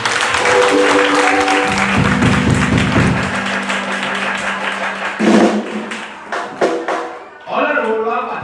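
Congregation at a church revival clapping for God, a broad crackle of many hands with voices and sung tones rising over it, then the applause thins into scattered claps and talk.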